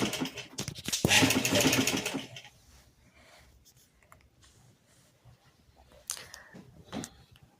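A motorised sewing machine stitching a salwar gives a loud, fast whirring run of stitches lasting about two seconds, then quieter handling noises and brief clicks, close by.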